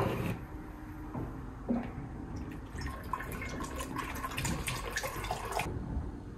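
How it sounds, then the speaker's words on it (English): Apple cider juice is poured from the last gallon through a funnel into a fermenting jug for homemade hard cider, a steady close liquid trickle and splash with drips, followed by water rinsing the funnel. "We'll add our last gallon here, rinsing out the funnel, and we'll let this sit."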